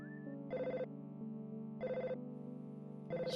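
A telephone rings in the video game EarthBound: three evenly spaced electronic ring bursts over a soft, steady musical backdrop, fairly faint and without talk.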